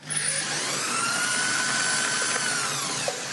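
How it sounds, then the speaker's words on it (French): A grain mill driven by a handheld power drill crushes barley malt, giving a loud, continuous high-pitched whine and grinding rattle with a steady tone throughout, close by and without speech. "Donc on prend le malt d'orge, on va le passer dans le concasseur."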